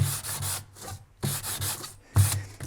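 Sandpaper rubbed by hand across the braking surface of a bicycle disc brake rotor, in three bursts of scratchy back-and-forth strokes separated by short pauses, close and fairly loud.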